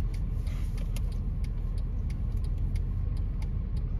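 Car moving in traffic, heard from inside as a steady low rumble of engine and road noise with faint ticking clicks and no talking.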